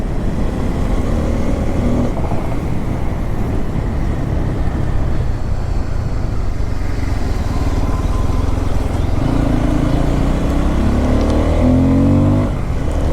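Bajaj Pulsar N250 motorcycle engine running steadily and loud throughout, a dense rumble with shifting revs and rising whine toward the end, no talk.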